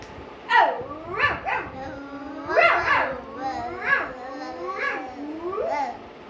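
A voice imitating a dog, with a string of yappy bark-like calls in an uneven rhythm, close and fairly loud.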